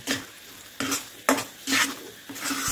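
Khoa cooked with a spoonful of ghee is stirred in a pan for pedha, giving five or six loud, rhythmic scraping strokes over a steady sizzle, close up and with no talk.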